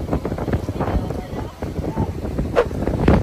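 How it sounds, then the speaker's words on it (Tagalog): Strong wind buffets the microphone at Dolomite Beach under stormy skies at high tide, with rough surf churning underneath as a dense, continuous roar while a voice talks over it. "Lakas ng hangin, umulan, sobrang maalon, and high tide"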